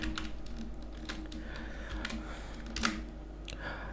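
Computer keyboard typing while Python print-formatting code is entered, a steady run of soft close keystrokes with a few louder clicks, alone with no talk.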